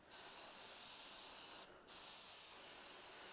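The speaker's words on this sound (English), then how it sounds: "You have to play around with the nozzle of your gun just to get the perfect spray pattern" Steady hiss of a paint spray gun coating a car interior, with a short break of about a quarter second before the spraying resumes at a constant level.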